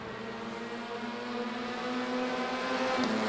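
TCR race cars at Silverstone during a GT4/TCR Challenge race, with a continuous engine drone that swells gradually louder as the cars pass.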